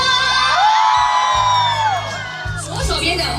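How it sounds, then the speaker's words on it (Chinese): A market crowd at an outdoor show whoops and yells in loud, sustained bursts, a wash of many voices rising and falling over a steady low hum from a sound system. "右手边的尖叫声"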